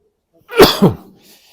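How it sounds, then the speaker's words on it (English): A single short cough, a sharp burst followed by a second smaller push, close by and otherwise quiet. "Coughing."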